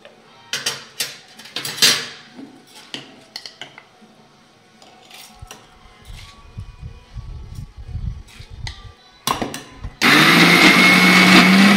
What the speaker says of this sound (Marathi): मिक्सरच्या भांड्यामध्ये आता आपण छान हे बारीक वाटून घेऊ।